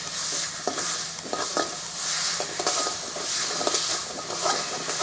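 Kachori filling cooked with date palm jaggery is stirred in a hot pan, a bright continuous sizzle and hiss broken by regular scraping strokes of the spoon, close and steady with no talk.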